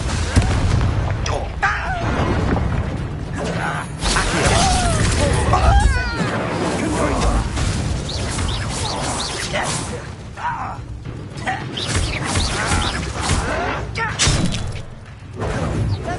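Explosive blasts and whooshes from spells cast in a Harry Potter video game, loud booms and crashing impacts mixed with game music and effects, with voices shouting over the action.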